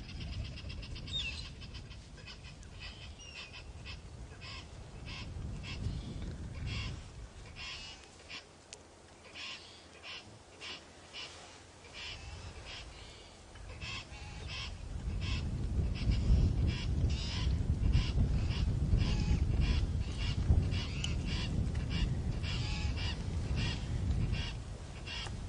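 A dense morning chorus of birds calls at a dam, with honking and hooting calls repeating over a steady background and growing louder midway through.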